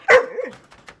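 Scout, a service dog confined to his crate, lets out one loud, sharp bark followed by a few softer, trailing yelps, close by with no talking.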